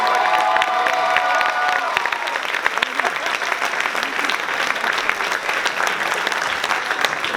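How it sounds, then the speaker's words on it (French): A concert audience at an Easter cantata in Préserville gives the narrators a sustained, loud round of applause, with scattered cheers and a whoop rising above the steady clapping. "On voudrait applaudir aussi le narrateur et la narratrice de ce spectacle"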